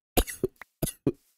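A man playing a survival video game coughs twice in quick pairs, each a sharp close bark followed by a smaller catch, loud and dry with silence between.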